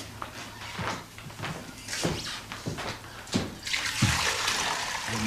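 Water is poured, a splashing stream that swells near the end after a few soft knocks and taps, with no voices.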